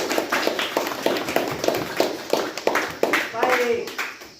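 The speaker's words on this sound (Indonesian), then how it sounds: "sekarang mari kita tepuk tangan untuk kita semua" A classroom of students clapping their hands, a run of distinct, fairly even claps at moderate volume, with some voices talking over the end.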